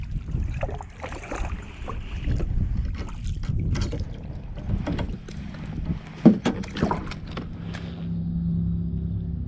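Kayak paddling through a mangrove lagoon at Ozello: irregular splashes and water swishes close to the microphone, with a few sharper knocks and light wind rumble throughout.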